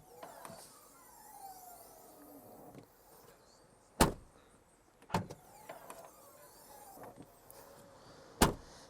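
Car doors on a Mercedes A-Class and an Audi A3 shut in turn, giving three solid, close thuds spaced a second or more apart over a quiet outdoor background.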